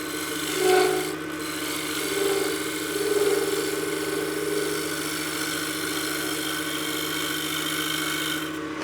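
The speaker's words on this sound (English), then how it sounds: "we'll do a nice little shear scrape to clean up that surface" A lathe tool shear-scrapes the outside of a spinning turned wooden box, giving a continuous close rasping hiss over a low motor hum, with a few brief louder swells early on.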